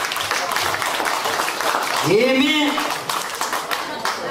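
Audience clapping at a village celebration game, steady claps running throughout beneath a person talking over them.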